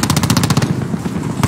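Fast automatic rifle fire in Call of Duty 4, a loud rattling burst that tapers off, then a fresh shot near the end.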